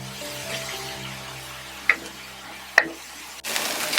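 Onions nearly browned in a pan give off a low, steady sizzle, with a couple of sharp clicks of a utensil against the pan and a burst of louder frying near the end, no voices.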